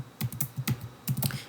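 Rapid bursts of computer keyboard typing, clustered keystrokes in quick irregular runs with brief pauses, close and fairly soft, no talking.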